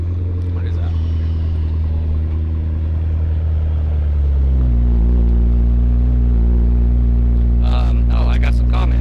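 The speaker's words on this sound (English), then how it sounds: "And there's a McLaren parking." A McLaren 720 pulls in to park at a Nashville cars and coffee meet, its engine a loud steady rumble that drops in pitch and settles to a low idle, with brief voices near the end.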